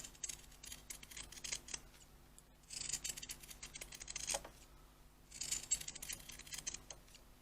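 Scissors snip through fabric in two or three quiet, close bursts of crisp cutting strokes, separated by softer handling rustles in an otherwise calm room.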